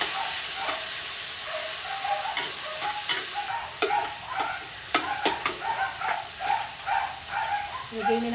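Tomatoes sautéing in a hot pan give a continuous hissing sizzle with steam, broken by sharp scrapes and clicks of stirring.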